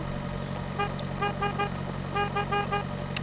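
Car horn honking in the farming game Pure Farming 2018, several short toots in quick bursts of three or four over a steady engine drone, fairly close and alone without talk.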